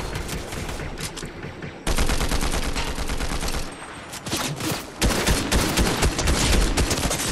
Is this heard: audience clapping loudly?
no